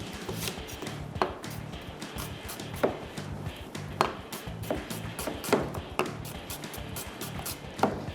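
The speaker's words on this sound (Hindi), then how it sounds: "प्याज को अच्छे तरीके से आप चॉप कर लें, उसके साथ साथ मिर्चें हैं मेरे पास, मिर्चों को भी हमने चॉप करना है।" Onion and green chillies chopped with a knife on a board, a quick steady run of close tapping chops with a few louder knocks, no voices.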